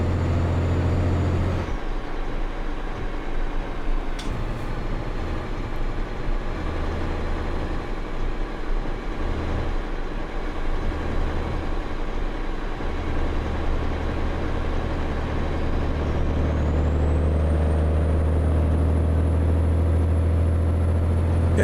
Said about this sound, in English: I like this engine. The sound sounds good in this truck. Mack engine, Mack truck, good stuff.